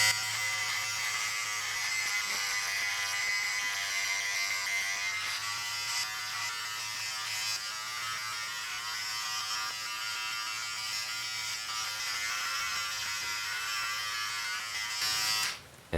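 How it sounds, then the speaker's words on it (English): An electric shaver buzzes steadily while shaving hair during a home haircut, a close, continuous high-pitched whine that holds for about fifteen seconds before cutting off abruptly at the end. "I'm gonna be using this part to shave this guy."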